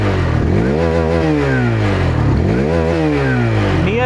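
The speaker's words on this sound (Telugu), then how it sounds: "సో ఎగ్జాస్ట్ సౌండ్లో పెద్ద డిఫరెన్స్ అయితే ఏం లేదు, ఇంతకుముందు యాజ్ యూజువల్ ఉన్నట్టే ఉంది" A 2023 Hero Xtreme 160R 4V motorcycle engine revs hard and close through its stock exhaust, climbing toward about 10,000 rpm, then dropping and climbing again in repeated sweeps, loud and continuous with no voices.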